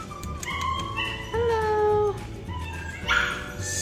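Dogs in a pet shop give high, drawn-out whimpers and yelps, several overlapping whines rising and falling over a busy indoor hum, close and fairly loud.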